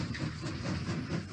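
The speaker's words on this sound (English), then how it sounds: "Oh no, this this is a Thomas the Train!" Train sound from a Thomas the Train character in a Roblox scary obby game, a steady rumbling, hissing rail noise that runs unbroken for the whole short moment with no voices over it.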